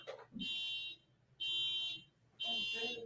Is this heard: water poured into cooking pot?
no